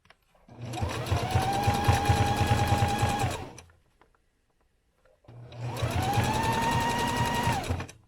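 A sewing machine lock-stitches the edge of a sling saddle in two close, loud whirring runs of about three seconds each, separated by a short pause.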